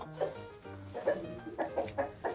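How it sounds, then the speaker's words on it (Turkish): Ornamental chickens of a heavy egg-laying breed cluck on a farm, a string of short, close, uneven clucks. "Süs tavuğunun en çok yumurtlayan ırklarından arkadaşlar bunlar da"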